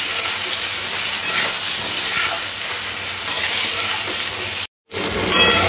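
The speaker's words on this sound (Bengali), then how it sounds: "আর বেগুন আর আলু সব খুব সুন্দর করে লাল করে ভেজে নেব" Brinjal and potato slices frying in oil, a loud, dense, hissing sizzle that stays steady throughout apart from one brief dropout.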